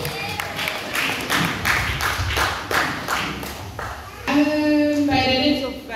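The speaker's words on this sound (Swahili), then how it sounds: "Piga makofi kwa Yesu." A church congregation claps hands together in a steady, rhythmic beat, roughly two claps per second. Voices and singing come in over it toward the end, and the room sounds close and lively.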